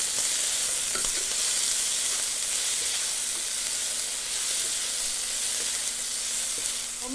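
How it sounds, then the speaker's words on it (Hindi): Shrimp frying hard in a hot kadai with garlic, a dense continuous sizzle close up with occasional faint stirring clicks underneath. "श्रिम्प, इनको 1-2 मिनट पका लें जब तक इनका कलर चेंज नहीं होता"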